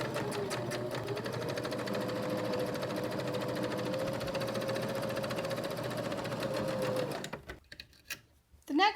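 A sewing machine stitches steadily over elastic on a fabric tote bag, a close, continuous rapid mechanical whir lasting about seven seconds before stopping.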